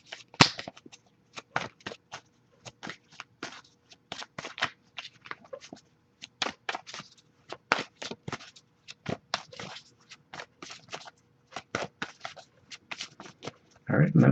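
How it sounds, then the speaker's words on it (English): Tarot cards shuffled by hand in a quick series of crisp riffling bursts and taps, repeating in irregular clusters close to the microphone. "Alright, nothing coming up yet, and I'll give it a few more shuffles."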